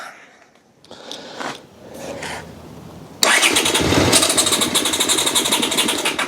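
An old barn-find Honda motorbike, unused for 25 years, cranks in a few short uneven bursts before the engine catches and settles into a loud, rapid, chattering idle close by.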